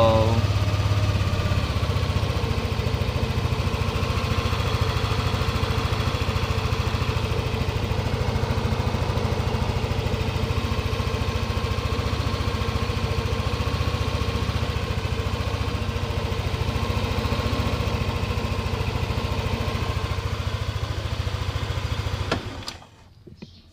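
A Yamaha Aerox 155 scooter engine with a new cam idles steadily nearby with an even, puttering drone for a long stretch before cutting off at the end.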